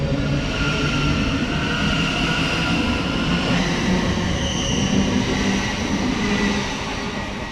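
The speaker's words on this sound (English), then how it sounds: "there goes 700-122 there, departing on the 1726 Thameslink service to Horsham from Peterborough" A Thameslink Class 700 electric multiple unit pulls away from Sandy station on the East Coast Main Line, giving a steady, loud rumble and hum with faint wheel squeal that eases off near the end; no voices.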